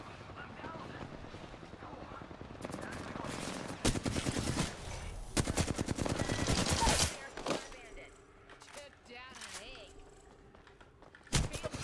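Gunfire in Apex Legends: bursts of rapid automatic fire and single shots, loud and close, breaking off into scattered shots, with game effects and a voice talking in between.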